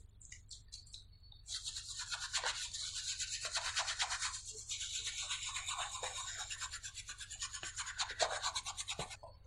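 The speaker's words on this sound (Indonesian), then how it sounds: "untuk bagian dalamnya kita masih menggunakan premium brush ya" A soft premium brush scrubs the inside of a suede shoe with steady, rhythmic back-and-forth bristle strokes, close and continuous for several seconds over a faint low hum.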